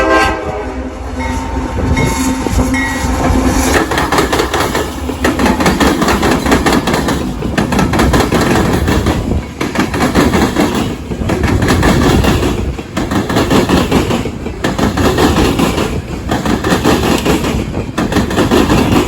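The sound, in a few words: loaded coal train passing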